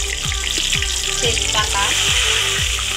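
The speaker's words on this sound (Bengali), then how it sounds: "এবার তেলে শুকনো মরিচ ফোড়ন, গোটা রসুন," Dried red chillies and whole garlic cloves hitting hot oil after browned potatoes in a Bangladeshi beef curry, giving a steady loud sizzle with a low tonal hum beneath and no talking.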